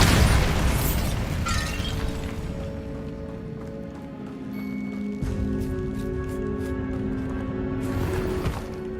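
Spell explosions and magical blasts from the Hogwarts Legacy video game, a sharp burst at the start followed by layered booming effects and sustained tonal game sound under a steady loud mix.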